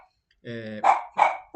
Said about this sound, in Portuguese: Desculpa pelos cachorros latindo,